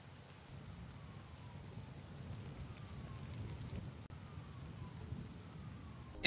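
A rain sound sample in a music track: steady rain hisses softly over a low rumbling backdrop, with a faint siren sample gliding slowly downward in the distance.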